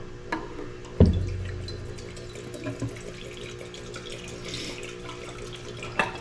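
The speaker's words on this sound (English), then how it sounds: "we just take a little bit of acetone and pour it in a clean jar" Acetone pours from a container into a clean jar, with a clear knock at the start followed by a steady, close trickle of liquid that runs for several seconds, no voices.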